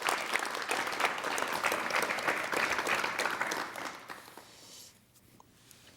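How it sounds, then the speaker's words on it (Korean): Studio audience on a 1987 Korean television talk show applauds steadily as two guests are welcomed, the clapping dense and sustained before fading away in the final seconds. "이우술 씨와 김형림 씨를 여러분 박수로 맞이해 주시면 대단히 고맙겠습니다"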